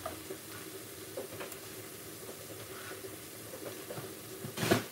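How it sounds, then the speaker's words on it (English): Onions soften slowly in a pan over low heat, giving a faint, even sizzle with scattered soft pops and a brief louder scrape of stirring near the end. "taking it very slow, just sort of softening and very slightly browning the onions"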